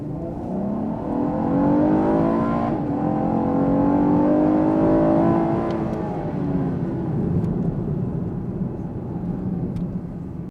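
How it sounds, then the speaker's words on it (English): A 2018 Chevrolet Camaro engine revving up hard as it accelerates from 0 to 60, the pitch climbing through gear changes, loud and close from inside the vehicle. "Let's go ahead and hit 0 to 60."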